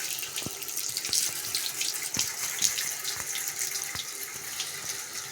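Water runs steadily from a tap into a sink, a continuous splashing hiss broken by a few soft knocks and clinks, close and moderately loud.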